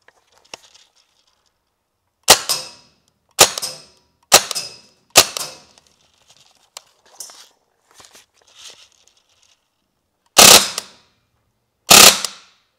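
Toy HK416 A5 replica rifle fires short sharp bursts outdoors, six loud clusters of rapid cracks spaced a second or two apart, with faint clicks between them and nobody talking.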